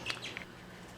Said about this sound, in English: that's their dad. That's Rudy, and he is a Rosie Bourke